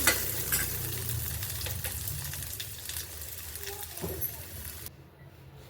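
Cumin and tamarind frying in a pan, a steady close sizzle with stirring scrapes that runs for about five seconds before dropping away abruptly near the end, with no talk over it.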